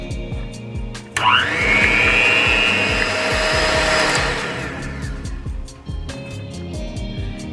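An electric hand mixer whirs loudly for about three seconds as eggs, vanilla and batter for banana bread are beaten in a bowl, with clattering and tapping before and after the motor runs.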